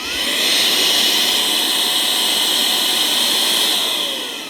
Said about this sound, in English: So the blower is definitely powerful.